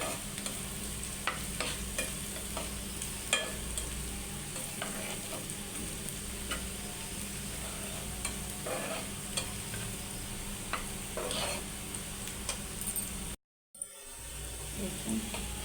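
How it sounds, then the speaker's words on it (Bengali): Onions or spices frying and being stirred in a pan before dried fish goes in, a steady close sizzle broken by frequent scraping stirs, continuing alone until a brief dropout near the end. "ভাজা হয়ে আসতেছে।"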